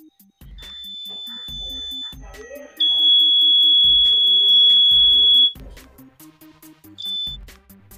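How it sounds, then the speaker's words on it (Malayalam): A homemade laser security system built from a laser, LDR, switch, LED and buzzer gives short repeated buzzer beeps, then a loud, steady high alarm tone for several seconds when the beam is blocked, and then a brief final bleep. "ലേസറിൻ്റെ മുന്നിൽ എന്ത് തടസ്സം വന്നു കഴിഞ്ഞാലും ബസർ ശബ്ദമുണ്ടാക്കുന്നത് നമുക്കിപ്പോൾ കേൾക്കാം"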